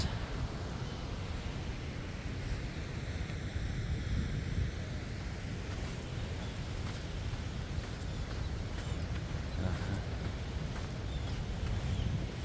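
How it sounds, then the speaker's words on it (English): Ocean surf rolls steadily onto a black sand beach in Iceland, a continuous wash of waves mixed with heavy wind noise buffeting the microphone. "That's the black beach. Black sand beach."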